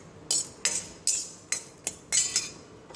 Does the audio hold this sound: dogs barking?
no